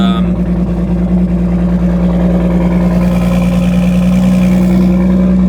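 A Toyota Supra engine turns over in cold weather and settles into a loud, close, steady low drone with a rough, humming idle that holds throughout.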